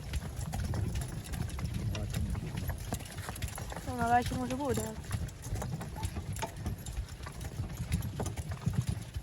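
Steady muffled hoof clops of horses walking on light snow while hauling firewood, continuous throughout, with someone briefly speaking over them.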